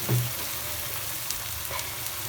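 Spices for a fish curry sizzle and fry in a pan, a steady soft crackle with a brief louder burst near the start, close by and with no voices.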